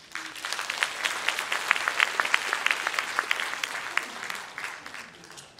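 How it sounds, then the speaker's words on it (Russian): Audience applause at a Russian poetry concert, lively close clapping with distinct sharp claps building and then tapering off at the end. "И ваши аплодисменты."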